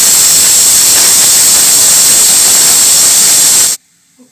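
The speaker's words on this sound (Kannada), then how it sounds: "ಕುಕ್ಕರ್ಡ್ ವಿಸಿಲ್ ಪೋಂಡು ಇಡೀ 3 ವಿಸಿಲ್ ಪೋಂಡು ಟೋಟಲ್ 5 ವಿಸಿಲ್ ಪೋಂಡು" A pressure cooker whistle, cooking Malabar spinach with clams, lets out a loud, steady steam hiss that holds for several seconds and then cuts off abruptly into near silence.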